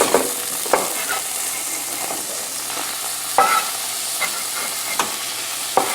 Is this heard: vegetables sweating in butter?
yes